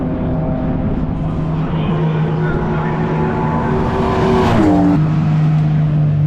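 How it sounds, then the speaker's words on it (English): Race cars circulate on track during a Britcar Trophy race, their engines a loud, steady drone. One car sweeps close past about two-thirds of the way through, its pitch dropping sharply as it goes by. "See if we can get some footage of the cars coming past."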